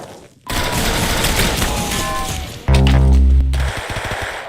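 Rapid gunfire from a video game rattles in a dense, loud fusillade, then a heavier, booming burst hits hard before easing back into continued shooting.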